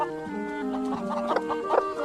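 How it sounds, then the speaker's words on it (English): A Japanese silky bantam hen clucks in a steady series of soft, close calls, with no talk over them. "Liza was a Japanese silky bantam"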